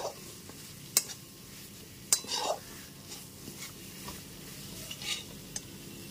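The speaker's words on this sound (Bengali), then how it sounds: "চিনিটা দিয়েও খুব ভালো মতো মিশিয়ে নিচ্ছি" Spice paste being stirred with a teaspoon of sugar for an arum and potato curry, with soft scraping strokes and a few sharp clinks of utensil against pan over a faint sizzle.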